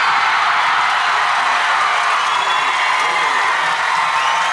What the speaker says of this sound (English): the still very loud crowd makes lots of noise celebrating another score